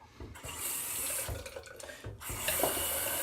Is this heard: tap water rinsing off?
yes